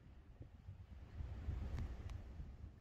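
Strong wind on an exposed landmark east of Edinburgh, Scotland buffets the microphone with low, uneven rumbling gusts, faint overall and with no voices.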